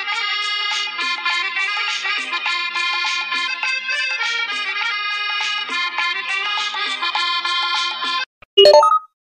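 A loud melodic ringtone repeats its tune for several seconds, then stops, followed by a short, different electronic tone.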